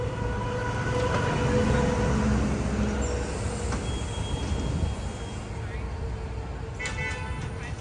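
Disneyland parking tram in motion, a steady rolling rumble and hum of the moving vehicle with faint chatter, a brief high squeal midway and light clatter near the end.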